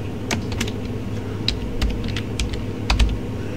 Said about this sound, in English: So I'm simply gonna go to text and type in my grandbaby's name.